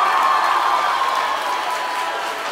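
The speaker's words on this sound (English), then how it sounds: "But just a quick little applause while we wrap it up." An audience applauding and cheering at a live arts event, a steady dense wash of clapping that holds at an even level and tapers slightly toward the end.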